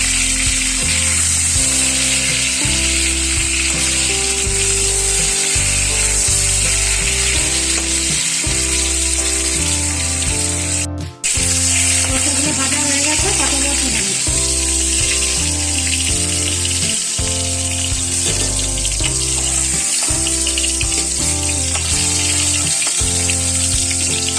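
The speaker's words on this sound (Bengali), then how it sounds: "পটলগুলো একটু ভালো করে ভেজে নেব" Pointed gourd (potol) fries in hot oil with a constant, bright sizzle that runs throughout, partly masked by loud rhythmic background music.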